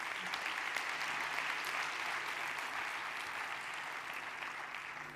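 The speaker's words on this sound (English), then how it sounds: "Can we give a round of applause," A conference crowd at the EU Water Innovation Conference claps in a steady, even wash of applause, moderately distant and fairly soft, holding without pause for several seconds.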